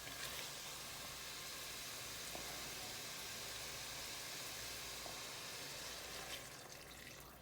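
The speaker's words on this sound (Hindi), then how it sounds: "इसमें मैंने 1 कप पानी डाल दिया है ताकि ये आलू का स्टार्च भी निकल आएगा" Water poured into a cooking pot of potatoes makes a steady, unbroken rushing and splashing noise that holds at an even level throughout, with no voices.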